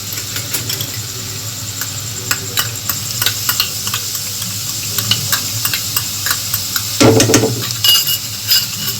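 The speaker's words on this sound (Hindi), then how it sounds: "प्याज थोड़े हल्के हल्के लाल हो गए हैं। तो मैं डाल दूंगी लहसुन अदरक का पेस्ट।" Garlic ginger paste drops into onions frying until lightly reddened in a pan, sizzling loudly and steadily while a spoon stirs and clinks against the metal in short scraping bursts.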